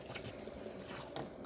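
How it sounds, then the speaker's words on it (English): Water running continuously from the taps of a 2016 Swift Challenger 570 caravan, a steady soft hiss and gurgle of flowing liquid with a faint splash, quiet and close with no voices. "when you've got water coming out of every tap on the van continuously"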